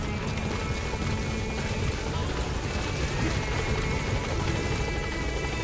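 Helicopter rotor noise from the Metal Gear Solid 5 video game, a steady dense thrum and whine that holds at an even loudness for the whole stretch, with game sounds mixed in.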